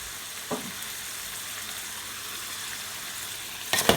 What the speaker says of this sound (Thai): ผัดต่อไปให้ส่วนผสมทุกอย่างเข้ากัน